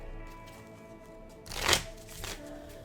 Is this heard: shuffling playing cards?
yes